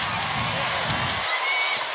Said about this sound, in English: the crowd is yelling for Clerget